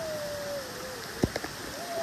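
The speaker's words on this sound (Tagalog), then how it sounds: "Ang lakas ng ulan." Steady rain hisses continuously with a few louder drips and taps standing out, fairly faint and even, with no talking.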